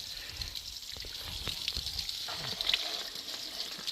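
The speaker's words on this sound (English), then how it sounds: "This is my little shower head." Water sprays steadily from a small hand shower head, a continuous hissing gush with faint trickles and light clatter underneath.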